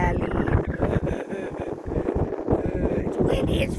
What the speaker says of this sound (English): It's windy as fuck.